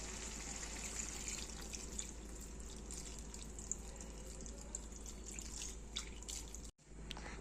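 Tamarind juice is poured into a village-style curry of moong dal fritters and dried prawns, making a faint, continuous liquid trickle and splash that runs steadily and then stops abruptly near the end.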